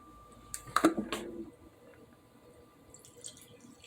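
A brief pour and splash of water into a pan, close by, followed by a few drips and then quiet.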